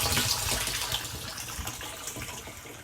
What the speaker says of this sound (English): that sounds like the second barrel's flowing